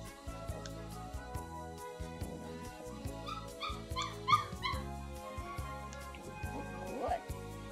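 Six-week-old Great Danoodle puppies whimper and yip in short, repeated, high-pitched bursts nearby, with occasional barks, soft and fairly quiet.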